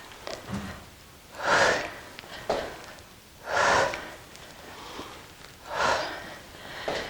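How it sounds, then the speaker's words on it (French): Slow, deliberate breaths in and out during a gentle cardio and strength class for over-60s, three long airy exhalations spaced evenly about two seconds apart, close and clear with no talking over them. "Inspire, expire. Inspire, expire."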